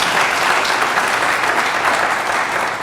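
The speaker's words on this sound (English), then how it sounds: "Let's give them one more round of applause." Dense, steady applause from a morning business-breakfast audience, a continuous wash of many hands clapping at close range, loud and unbroken throughout.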